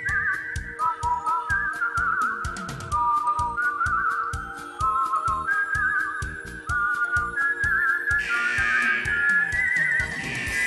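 A man whistles a medley of songs in a music shop setting, bright melodic whistling running continuously and close, with a steady rhythmic backing beat and a shift to a higher passage near the end.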